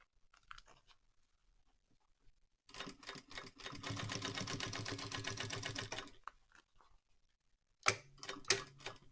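A sewing machine stitches a clear TPU stadium bag in one steady, loud, even run of rapid needle strokes lasting a few seconds, with quieter handling clicks and rustles before and after.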